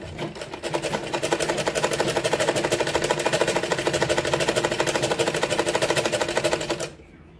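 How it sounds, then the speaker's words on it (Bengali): Loud, close sewing machine stitching along the edge of a saree fall, a fast even rattling run that holds steady for several seconds and then stops. "মেশিনে একদম কিনারে কিনারে সেলাই দিয়ে করে নিয়েছি"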